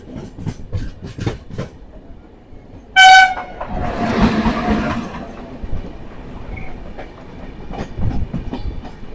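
A Paschim Express passenger train rolls past in India, with a rhythmic clickety-clack of wheels over rail joints and a short, loud horn blast partway through. A broad rumble swells as the carriages pass.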